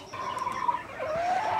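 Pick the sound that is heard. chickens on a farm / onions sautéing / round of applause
chickens on a farm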